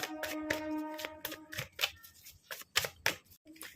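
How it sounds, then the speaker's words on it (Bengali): Tarot cards shuffled by hand, a close run of crisp riffling flutters and soft slaps in uneven bursts, quiet and without speech. "আচ্ছা, ট্যারো কার্ড থেকে দেখে নেওয়া যাক ট্যারো কার্ড কি বলছে।"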